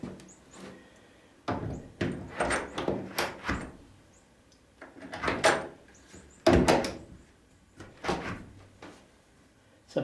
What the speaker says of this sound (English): And this door should close now.